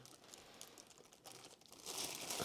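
A plastic bag crinkles and rustles as it is opened from the top while unboxing a Lenovo Ideacentre 3 desktop computer. The crackling is soft and close and grows louder toward the end.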